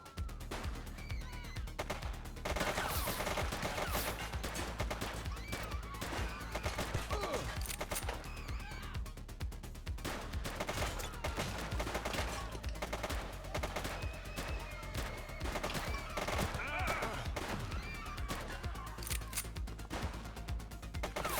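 Sustained video game gunfire in The Precinct during a police shootout with a gang suspect, rapid loud bursts of shots running continuously alongside game sound, with brief character voices.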